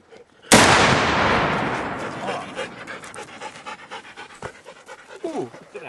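A single .50 BMG rifle shot fires with a sharp, loud blast that rolls away in a long decaying echo, followed by panting and voices in the background.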